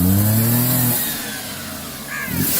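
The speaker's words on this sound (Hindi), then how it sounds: "अरे एक्सीलेटर दीजिए ना" A car engine revs up in a short strained rise as the accelerator is pressed, then falls away, with a brief second rise near the end, close and alone without talk.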